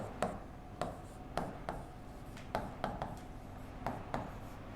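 Chalk or marker strokes on a classroom board, a series of short scratchy taps and rubs at an irregular rhythm, faint and close, with no talking over them.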